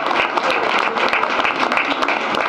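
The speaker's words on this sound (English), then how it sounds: "let's just have a round of applause for our team here today" Applause for a youth football league champion team at a town livestream event, a dense, even burst of clapping from a gathered crowd, fairly loud and sustained.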